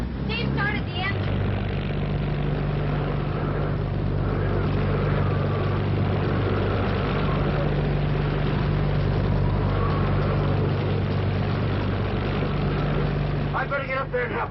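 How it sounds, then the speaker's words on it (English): A boat engine runs at a steady, loud rumble throughout, with no pause, amid stormy hurricane conditions in a 1950 film. Voices come through briefly at the start and end. "Steve started the engine."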